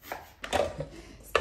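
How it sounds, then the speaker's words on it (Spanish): A knife slicing an onion into thin strips on a cutting board while making Zacatecas-style chilaquiles, with a few sharp, close chops spaced irregularly across a brief, quiet moment. "ahora vamos a cortar la cebolla en líneas muy delgaditas"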